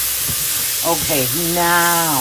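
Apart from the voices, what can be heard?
green beans with pork hocks frying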